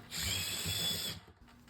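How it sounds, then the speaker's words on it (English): A power drill whines steadily for about a second as it bores a pilot hole through a wall, then spins down and stops. "Now we drill a pilot hole to make a hole on the other side."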